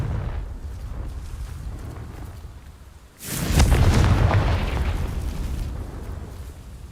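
The Confringo fire spell bursts with a sudden loud explosive boom in Hogwarts Legacy, cutting in after a quieter stretch of ambience and then rumbling on as a sustained blast.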